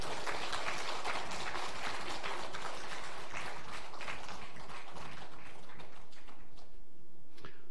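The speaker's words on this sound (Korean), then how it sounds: "최선을 다하도록 격려 박수 한번 해주세요." A church congregation at a Sunday all-generations service claps in sustained, dense applause that fills the room and thins toward the end.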